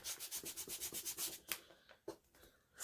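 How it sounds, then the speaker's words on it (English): Something rubs quickly up and down the edge of a napkin journal page, with a soft, rhythmic papery scrubbing up close. It stops and is followed by a few sparse, faint rubs and taps. "I'm just going to rub up and down"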